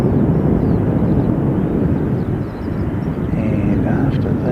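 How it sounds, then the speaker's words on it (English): An ATR turboprop airliner preparing for takeoff gives off a steady, loud engine roar with wind buffeting the microphone throughout. "this ATR is ready to take off already"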